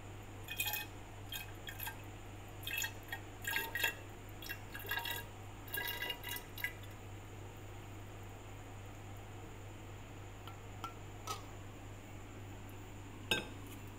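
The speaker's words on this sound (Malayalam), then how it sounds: "ഇങ്ങനെ അങ്ങോട്ട് ഒഴിച്ചു കൊടുക്കും കേട്ടോ." Bilimbi juice is poured into a container during squash making, giving splashy trickling bursts in the first half, followed by quieter gaps with occasional clinks against a steady hum.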